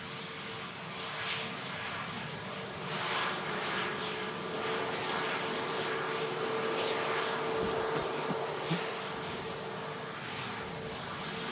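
An EasyJet Airbus A320neo comes in to land at Manchester Airport with a steady, moderately distant jet roar that swells slightly in the middle, alone without talk.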